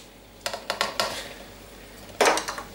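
Cauliflower rice being moved into a microwavable dish in a home kitchen, a few light clinks and scrapes of a dish and utensil, then a louder clatter near the end, close up with no talk.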